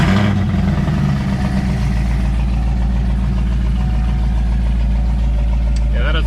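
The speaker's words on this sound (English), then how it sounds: "And go ahead and get that cold start going." A car engine turning over on a cold start and settling into a loud, steady idle, deep continuous rumble close by with a brief rising rev near the end, prepared for the Scrapin the Coast 2020 car show.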